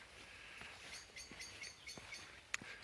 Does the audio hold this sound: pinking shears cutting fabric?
no